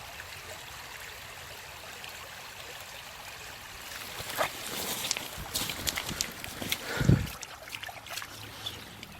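Water from a small waterfall flows in a soft, steady hiss, with closer splashing and rustling bursts picking up midway as someone moves nearby.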